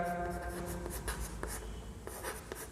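Marker or chalk scratching out a maths equation on a board during a Class 10 linear equations lesson, short rubbing strokes in an irregular rhythm, close and fairly loud, no talking.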